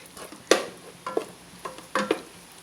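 Ada, rice flakes for ada pradhaman, being stirred and fried in ghee: a few sharp scraping and clattering strokes of a spoon in the pan, irregular and close, over a faint sizzle.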